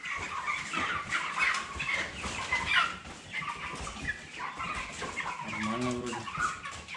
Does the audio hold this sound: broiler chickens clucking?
yes